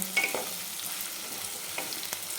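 Cowpea and potato dry bhaji with spices stirred in a pan, a soft continuous frying sizzle with a few light spoon scrapes, close and quiet, no voices.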